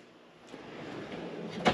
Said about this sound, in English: and then just floor drawers.